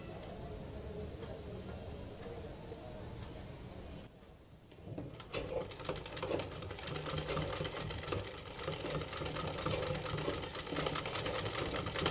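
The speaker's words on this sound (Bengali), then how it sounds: "উপরের দিকে কাপড়টাকে পিছনের দিকে নিয়ে সেলাই করব" A sewing machine stitches a folded half-inch hem on a baby frock. It hums steadily, dips briefly about a third of the way in, then resumes with a busier, clattering mechanical rhythm.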